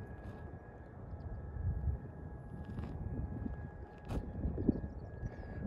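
Boom XB-1 jet on its first flight approaches to land, a steady distant engine roar mixed with wind buffeting on the microphone, rising slightly toward the end.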